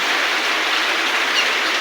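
Steady heavy rain hisses continuously, a dense close wash of falling water with no other sounds.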